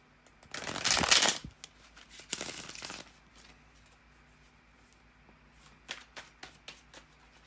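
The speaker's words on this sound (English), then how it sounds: "bear with me a second, guys, to shuffle the cards" Tarot cards being shuffled by hand, two loud riffling bursts close up near the start followed by quieter scattered card flicks and taps, with no talking.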